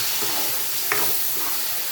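Three tomatoes sautéing in a pan for chicken gravy, a dense close sizzle with one quick stirring scrape partway through.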